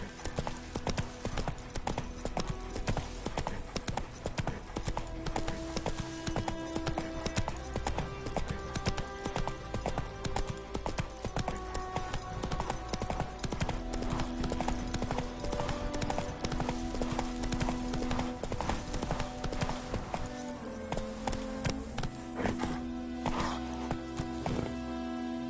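Roach, the horse from The Witcher 3, gallops with steady hoofbeats running under loud, continuous orchestral game music the whole way through.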